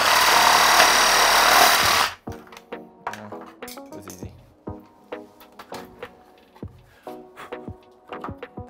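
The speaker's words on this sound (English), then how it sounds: "I'm gonna saw this edge off with my sawzall" A reciprocating saw cutting the edge off an electrical switch box in a bathroom remodel, buzzing loud and steady for about two seconds, then a string of close clicks and knocks as the box is handled.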